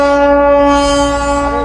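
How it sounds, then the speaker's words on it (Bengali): The Darjeeling toy train passes at Batasia Loop, giving out a loud, steady, sustained tonal horn or whistle that holds close and constant throughout. "এখান থেকে যে টয় ট্রেন যাচ্ছে"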